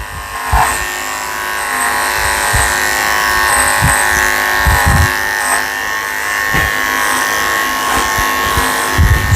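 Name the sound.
electric dog clippers with number 7 blade grooming Scottish terrier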